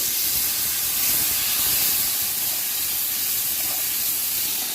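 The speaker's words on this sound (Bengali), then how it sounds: "অল্প একটুখানি জল দিয়ে দিচ্ছি" Water poured into hot spice paste in a pan while cooking a Bengali tilapia curry with onion, giving a steady loud hiss of sizzling steam that runs unbroken from start to end.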